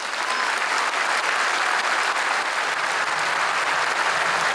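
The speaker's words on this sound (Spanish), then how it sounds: "Un aplauso para los productores." Loud, sustained applause from a large crowd at a 2015 speech in Argentina, a dense, even roar of many hands clapping with no break and no voices over it.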